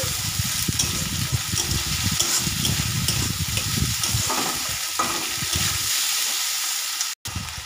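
A paste of ginger, garlic and whole dried red chillies fries in a hot pan for a chitol fish recipe. It gives a steady, loud sizzle with bubbling and stirring scrapes, then quietens near the end after a brief cut.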